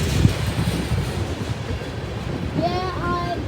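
A very long freight train rolls by close at hand, a steady broadband rumble and rattle of cars throughout, with faint squealing tones near the end.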